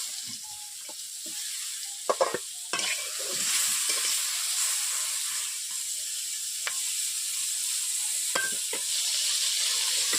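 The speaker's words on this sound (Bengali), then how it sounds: "আমি বেগুনটাকে ভেজে নেব।" Steady oil sizzle from a pan of frying eggplant, with a spatula scraping and clinking against it now and then, close and continuous.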